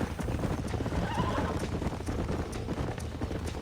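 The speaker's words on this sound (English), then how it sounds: "These are fine horses." Horses whinny and hooves clip-clop steadily in the Red Dead Redemption video game, close and loud over a continuous busy background of game ambience.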